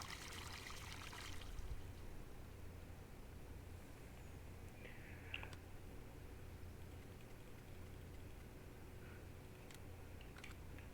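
Water filling from a trigger point on a Farming Simulator map, a continuous soft rushing pour like a hose stream into a tank, with a couple of brief clicks and knocks partway through.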